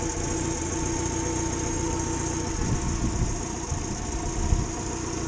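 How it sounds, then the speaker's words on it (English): An engine idles steadily after being restarted, running fairly quiet with a constant low hum and a faint rattle, without speech. "It's definitely quieter than the last engine."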